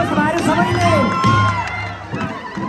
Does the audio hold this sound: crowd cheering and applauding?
yes